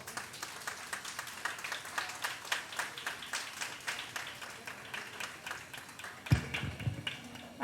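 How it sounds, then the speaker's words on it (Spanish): An audience claps after a science talk at a Pint of Science festival evening in Salta, a quiet, steady run of many hands with a sharper burst near the end. "Un fuerte aplauso."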